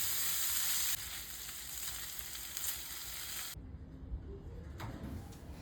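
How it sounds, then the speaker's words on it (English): Fish filling sizzling and crackling in a pan over the fire while being stirred, a steady close frying hiss that drops in level partway through with occasional scraping. "I'm going to stir this for just 2 minutes and then I'll take it off the fire."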